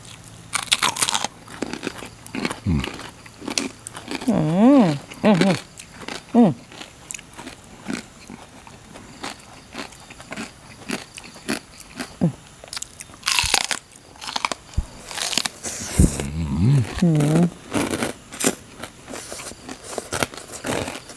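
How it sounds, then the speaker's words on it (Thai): Fatty, crispy pork rind is bitten and chewed close to the microphone in repeated loud crunches and crackles, with a few short murmured sounds between bites. "แคบหมูติดมันกินแล้วติดคอ"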